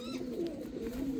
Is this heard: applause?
no